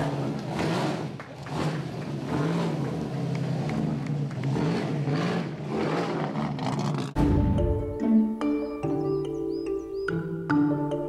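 A restored BMW Kamm Coupe, an aerodynamic classic, driving at Villa d'Este on Lake Como, its engine a continuous moderately loud drone that shifts abruptly partway through to steadier, tonal running.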